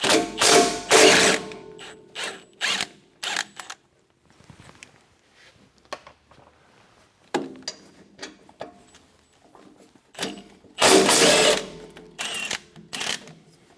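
A ratchet wrench clicks rapidly in loud close bursts while bolts come off the hydraulic fan motor of a MUSKOX snowblower, with pauses of quieter handling and clanks between the runs.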